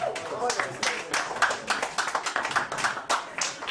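An audience at a comedy show claps and cheers in a steady patter of hand claps, with a voice talking over the applause.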